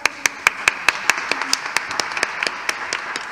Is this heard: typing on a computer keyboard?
no